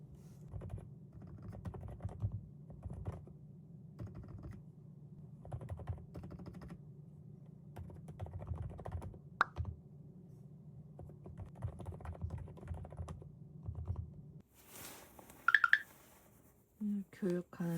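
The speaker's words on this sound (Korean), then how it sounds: "집에서 쓸 때 재택근무용으로 이 키보드를 쓰려고 합니다" Rapid keystrokes on a new computer keyboard used for working from home, soft continuous clacking through most of the stretch with brief pauses, then a few louder knocks near the end.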